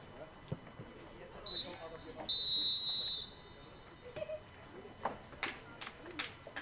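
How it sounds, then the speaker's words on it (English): Referee's whistle blasts to end the first half of a youth boys' soccer showcase match, U18 against U17: a short shrill peep followed by a longer sustained blast, clear above faint crowd and field ambience. "The whistle blast signifies the end of half number one."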